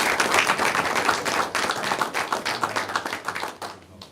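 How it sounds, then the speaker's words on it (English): Applause from the audience at a school board meeting honoring a student, a steady burst of clapping from a modest crowd in a meeting room that thins and fades toward the end. "We can give Garrett a round of applause."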